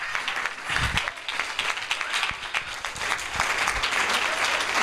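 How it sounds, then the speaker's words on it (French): A church congregation claps and applauds at a service, a continuous dense wash of many hands clapping at once, steady and loud throughout. "Is that how you're clapping?"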